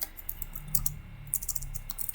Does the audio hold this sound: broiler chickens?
no